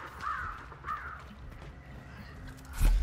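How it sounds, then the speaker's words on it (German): Crows caw twice in a Hunt: Showdown game, startled into flight, two short harsh calls early on, fairly faint over a low rumbling ambience, with a thump at the end. "Achtung, die Vögel werden aufschrecken."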